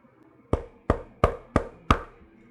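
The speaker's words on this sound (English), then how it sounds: "arrived at Grandma's and knocked lightly on the door" Five light knocks on a wooden door in a steady, evenly spaced rhythm, each close, crisp and distinct, with no talk around them.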